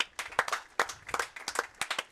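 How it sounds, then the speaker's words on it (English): Crowd clapping in the stands for Little League players at an evening high school baseball game, Nashua-Plainfield at Saint Ansgar, with bursts of hand claps that rise and fade over a couple of seconds, moderately loud and fairly close. "Another big round of applause for all our Little Leaguers tonight."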